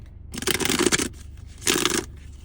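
Tarot cards being shuffled by hand, two bursts of crisp riffling and rustling close by, the first longer and the second shorter, with no talking.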